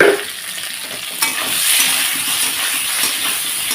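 Boiled taro being stirred and fried with salt in a pan, giving a steady close sizzle and hiss with light scraping from stirring throughout, and no voices.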